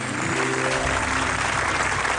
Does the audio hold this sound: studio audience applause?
yes